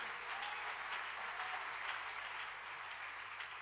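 A church congregation breaks into sustained applause, a dense, even wash of many hands clapping that carries steadily from start to finish, with faint voices mixed in.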